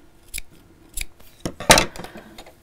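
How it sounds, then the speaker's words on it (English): Scissors snip fabric at a corner during sewing: a few quick, crisp cuts close by, with one louder snip near the end and quiet pauses between. "I'm going to put in a few snips"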